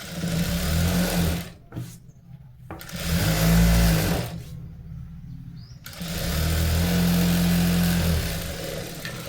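Sewing machine stitching a blouse in three bursts of rapid, humming needle motor, close and loud, broken by short pauses between runs of stitching.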